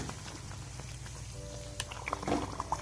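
Breakfast sizzling in a hot pan, a steady crackling fry like light rain, with a few clinks and scrapes near the end as it is flipped.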